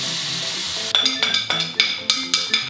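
Rice for garlic shrimp rice is stir-fried in a pan: a steady hiss of sizzling oil, then a run of sharp, evenly spaced scrapes and clinks as the utensil tosses the grains, close and loud.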